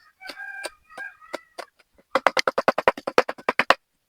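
Native chickens clucking close by, a few scattered calls first, then a rapid run of about a dozen sharp, evenly spaced clucks.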